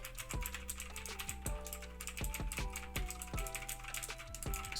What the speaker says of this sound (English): Super clicky Otemu blue keys.